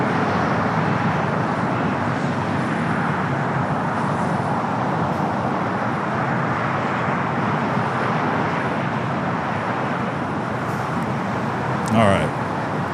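Heavy Boeing Dreamliner jet departing LAX for Newark, heard as a broad steady roar of engine noise that holds evenly throughout, loud and continuous with no talk over it.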